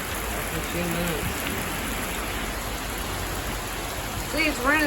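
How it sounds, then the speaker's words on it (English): Heavy rain pours steadily at Halloween during a wind-driven downpour that is already flooding, a dense close hiss filling the whole clip, with a few brief vocal sounds over it. "See, it's raining sideways."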